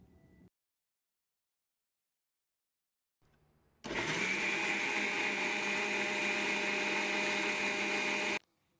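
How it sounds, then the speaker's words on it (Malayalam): A mixer grinder runs in one loud, steady burst of about five seconds, blending a spice paste of garlic, green chillies and water for a Friday fish curry, with a brief quieter start before it. "പിന്നെ ആവശ്യത്തിന് വെള്ളം ഒഴിച്ച് നമുക്ക് നന്നായിട്ടൊന്ന് അരച്ചെടുക്കാം."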